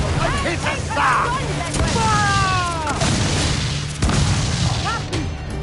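Ship cannons firing during a naval battle in Assassin's Creed 4: Black Flag, with heavy booms landing one after another amid crashing and battle noise, while shouted voices sound among the blasts.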